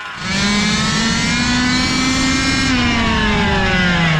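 A giant gas-powered RC truck's 2-stroke engine held at half throttle, a loud, steady, buzzy drone with a slowly rising pitch, close up and with no talk.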